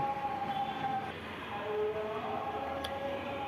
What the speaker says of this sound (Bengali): আমরা এখন মেট্রো রেলের ভিতরে ঢুকবো